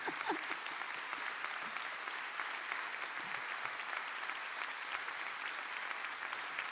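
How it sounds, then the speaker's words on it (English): An audience at a museum conference panel applauds in a steady, even wash of clapping that continues without a break, moderately distant and fairly quiet. "I think this is an applause that can probably go on for about an hour"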